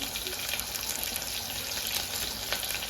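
Chopped green chillies and curry leaves sizzling in hot oil in a pan, a dense, bright, continuous crackle heard close and steady.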